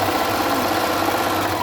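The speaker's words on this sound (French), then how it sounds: "nous revoilà à la machine en piqûre droite" Sewing machine running a straight stitch on fabric for a washable cloth mask, a steady close mechanical hum with fine rapid vibration throughout, no talking.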